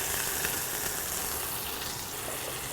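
Chopped yellow onion fries in a hot pan. It makes a steady, close sizzle and hiss that holds at an even level without a break.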